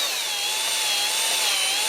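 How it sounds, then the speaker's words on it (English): A cordless drill whirs at slow RPM, spinning an engine valve from a Datsun 520 engine being prepped for rebuild; a steady, close motor whine with a faint rubbing hiss, alone. "A much better approach is just to hook a cordless drill to the end of your valve here."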